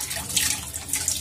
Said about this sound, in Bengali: সেগুলো একটু ধুয়ে নিতে হয়